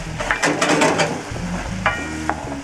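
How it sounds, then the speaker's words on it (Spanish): A small garlic clove sautés in a hot frying pan with a close sizzle, while a utensil stirs and scrapes it around in quick, busy strokes. "Y voy a saltear bien salteadito, casi como para caramelizar más o menos"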